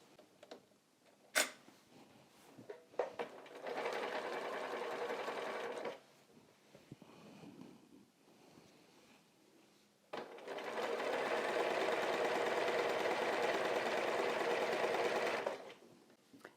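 Sewing machine stitching binding onto a quilt, two steady close whirring runs of about two and five seconds with a rapid even needle rhythm, separated by quiet handling noise and clicks, no speech.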